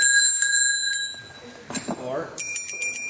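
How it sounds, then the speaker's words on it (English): A bell is rung as a speaking-time warning at a byelection debate in a church hall, giving a few bright rings, then a spoken word, then a quick run of rapid rings. "So the bell is your 15-minute warning."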